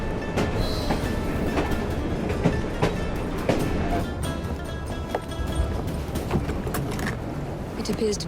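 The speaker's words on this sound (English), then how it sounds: "at least we have a train now" Train rolling along the tracks in the video game Assassin's Creed Syndicate, a steady continuous rumble with faint clattering and sharp clicks over a constant low roar.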